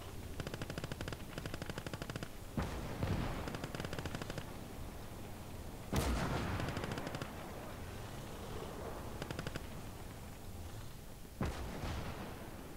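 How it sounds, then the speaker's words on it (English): Big guns firing at a tank in the Eastern Front strategy game Gates of Hell, during Operation Bagration, with faint continuous rattling gunfire punctuated by a few sharp heavier booms, distant-sounding and without voices. "Got some pretty big guns firing at that tank."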